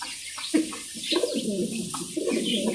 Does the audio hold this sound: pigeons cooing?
yes